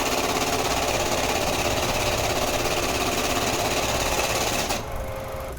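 A top-loading banknote value counting machine runs with a loud, steady mechanical whir and rapid rattling close up, then the pitch drops as it slows near the end.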